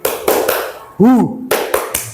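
A group does a rhythmic clap-and-shout ice breaker, sharp sets of hand claps in a quick pattern broken by a loud chanted vocal call, close and loud.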